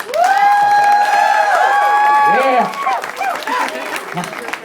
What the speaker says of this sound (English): give yourselves a round of applause for being here and being a part of this.